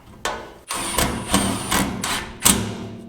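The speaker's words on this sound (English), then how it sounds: "now that I've got the holes drilled in there, I'm just going to screw this thing down" A parts washer solvent tank being screwed down to a wheeled base, with a series of five or six close, sharp mechanical bursts from a powered driver spaced about half a second apart, each trailing off briefly.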